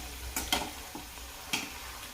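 Tellachi puris deep-frying in oil in a home kitchen, a faint low sizzle broken by a few sharp crackling bursts as pieces go in or are turned, with no talk.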